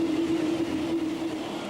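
A TGV high-speed train runs on rails with a sustained loud rumble and a steady tonal hum, passing close and continuously.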